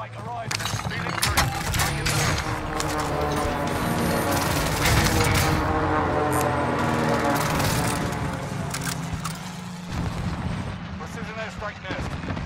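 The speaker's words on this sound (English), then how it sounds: "Allied cluster strike arriving." Cluster strike explosions in Call of Duty Warzone, a dense, continuous barrage of booms and crackling blasts rolling on for several seconds, with game voice callouts over the top.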